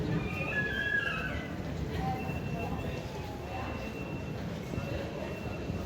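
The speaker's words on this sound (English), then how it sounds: "We're getting the southbound Northern Line." A southbound London Underground Northern Line train, heard as a continuous loud rumbling roar with faint high squeals, under brief indistinct talk.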